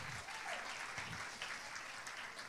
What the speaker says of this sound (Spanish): dele un aplauso fuerte al Señor Dios Todopoderoso